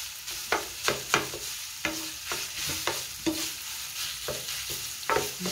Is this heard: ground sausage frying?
yes